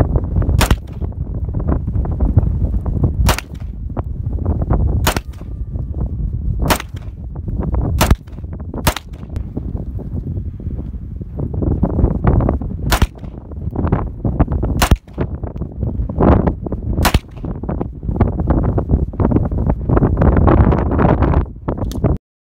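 Springfield XDM Elite 9mm pistol fired at an outdoor range: about a dozen sharp, loud single shots spaced irregularly, over steady wind and background rumble.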